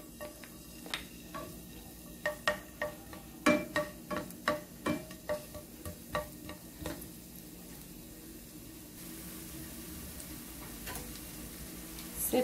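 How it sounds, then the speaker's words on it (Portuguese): Garlic fries in soybean oil for sautéed collard greens, a faint steady sizzle with a run of rhythmic taps from a utensil against the pan before settling into quieter frying. "Dá uma fritadinha aqui no alho."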